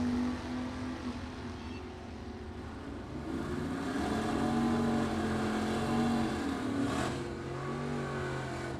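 A 1961 Corvette and a Grand Prix make a Super Pro drag race run, engines roaring together and swelling louder midway as the cars pass, heard from a distance at the strip.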